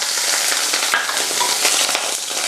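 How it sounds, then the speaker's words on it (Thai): Mushrooms stir-frying in oil with no garlic or shallots, a loud close crackling sizzle broken by frequent spatula scrapes and tosses. "จะทำการผัดเห็ดกับ น้ำมันนะคะ"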